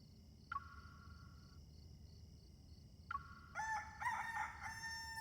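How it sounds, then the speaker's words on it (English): A rooster crows twice with clear, bright calls in the game Love and Deepspace, followed by a brief burst of chiming, bell-like tones over a quiet background hum. "The rooster already crowed."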